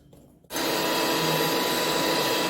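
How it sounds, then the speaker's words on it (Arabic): An electric hand mixer whipping cream, cold milk and sugar switches on abruptly after a short quiet moment and then holds a loud, steady whirring drone close by until the end, with no talk. "واضرب المكونات مع بعضها كده بالمضرب"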